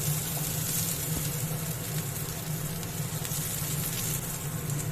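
Onion and garlic frying lightly in oil, a steady soft sizzle with a faint low hum underneath, constant and even throughout with no talk.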